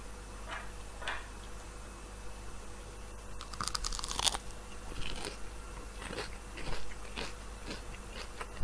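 Breaded chicken nugget being bitten and chewed up close, with a scattered series of crisp crunches and chewing sounds over a quiet background.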